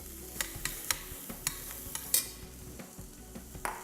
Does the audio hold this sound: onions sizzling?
yes